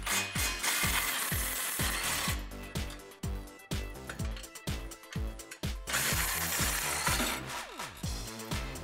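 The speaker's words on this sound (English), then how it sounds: "All you have to do is pull these bolts out of either hole here in the flange using a 13 mil socket." A ratchet turning a 17 mm socket on the exhaust flange bolts of a 2015-2020 Ford F150 3.5L EcoBoost makes rapid, loud metallic clicking close by, in repeated bursts of strokes with brief pauses between them.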